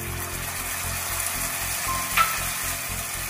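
Grated tomato frying with onion and garlic for a dhaba-style chicken keema, a steady close sizzle over a rhythmic low mechanical pulsing hum, with one brief bright clink near the end.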